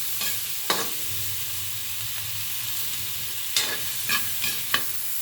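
Hotdogs being stirred in a frying pan: a steady sizzle of frying with a few sharp scraping clinks of a utensil against the pan, close and alone.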